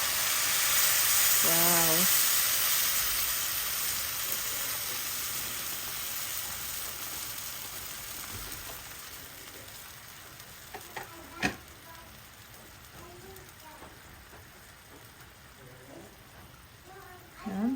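Broth poured into a sizzling pan of minanok-style beef, a loud hiss and sizzle that swells at first, then settles into steady frying with light stirring and a few clinks, while a voice exclaims briefly.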